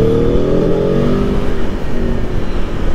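An Aprilia Tuono V4 1100 motorcycle engine revs loud and close during a downshift, a rough, continuous roar whose pitch sweeps and wavers as the gear changes, with no speech over it.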